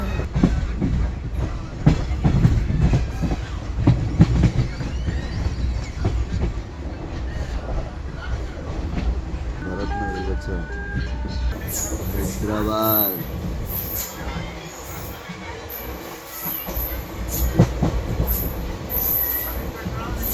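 An Indian Railways train rumbles and clatters past up close in Hyderabad, its wheels squealing loudly partway through, while a voice speaks briefly over the noise.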